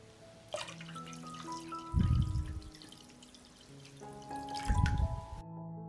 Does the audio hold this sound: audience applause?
no